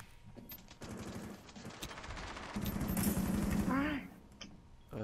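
Rapid automatic gunfire bursts from a Rainbow Six Siege match, a steady rattling stream of shots at moderate distance, joined by a louder close burst and a voice partway through.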